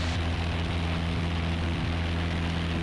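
Steady, loud drone of a Piper Warrior light aircraft's engine and propeller in flight over Connecticut, a continuous close hum with no pauses.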